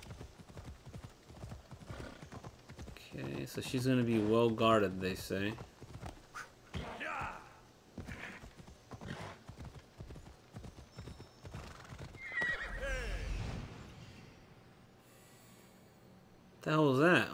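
A horse's hooves clip-clop steadily over rough terrain in Assassin's Creed Odyssey, with neighs and snorts and someone talking over the sound throughout.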